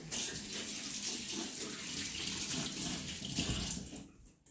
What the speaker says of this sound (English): Wait, rinse my hands off real quick.